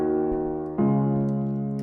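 Afrobeat chord in FL Studio with its notes raised an octave, a sustained synth chord held alone, struck once and then restruck slightly louder partway through.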